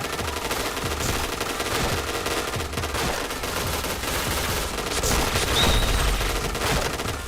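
Rapid automatic fire from a WR4 rifle in a video game, sustained bursts of shots rattling on with barely a pause, loud and close throughout.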